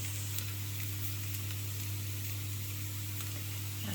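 Vegan gluten-free carrot and lentil burgers frying in a pan give a steady, even sizzle, a constant close hiss with no talking.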